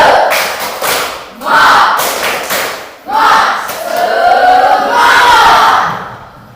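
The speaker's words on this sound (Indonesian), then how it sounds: "Tepuk semangat." A class of students performs a rhythmic group clapping chant of encouragement in a classroom, with bursts of unison clapping and shouted voices rising and falling in several loud waves.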